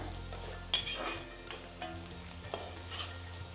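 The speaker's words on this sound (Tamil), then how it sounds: "நல்லா வெங்காயம் வதங்கணும் ரெண்டு நல்லா வதங்கி வாசம் வரணும் கருகப்பில் அதில் சேர்ந்து வதங்கிருச்சு நல்லா" Onions and curry leaves sauté in a pan for a Chettinad fenugreek kulambu: a soft, low sizzle with occasional spoon scrapes and light clinks against the pan, fairly quiet and close.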